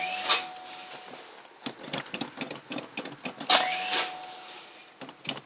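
A Cadillac Eldorado that has sat unused for five years, with a weak battery, cranks on a cold start in uneven whirring bursts without catching.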